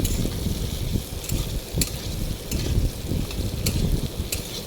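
Potatoes frying in oil, a dense continuous bubbling sizzle with occasional sharper crackles and stirring knocks, close and moderately loud.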